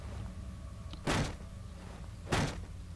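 A door thuds twice in Penumbra: Overture, two sharp, loud knocks or slams roughly a second apart over a low ambient hum.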